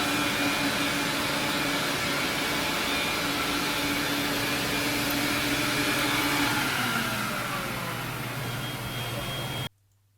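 A vacuum cleaner runs steadily over a Persian carpet, a loud continuous whooshing drone whose pitch shifts slightly as it works, then cuts off suddenly near the end.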